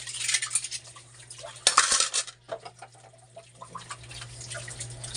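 Cooking pots and metal utensils clatter and scrape while being washed, with sharp clinks and bursts of running water, close by and uneven in rhythm, alone without talk.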